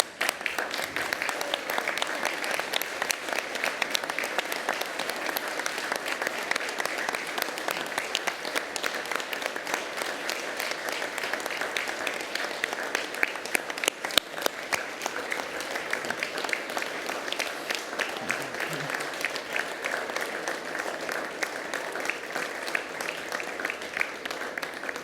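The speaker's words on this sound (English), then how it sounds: "for everyone else to stand and join me in applauding the wonderful achievements of our" Audience standing to applaud graduates at a University of Newcastle graduation ceremony in Ourimbah, Australia: sustained, dense clapping from a large crowd, continuous and even for about twenty-five seconds.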